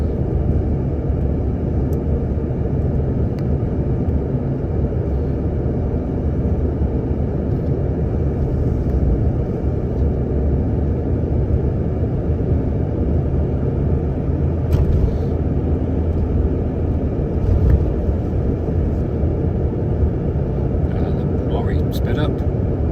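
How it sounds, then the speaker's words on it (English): A coach overtakes a slower vehicle on a road in Morocco, heard as a loud, steady engine and road rumble that stays constant and close throughout. "the coach is about to do a death wish overtake of the slower moving vehicle in front"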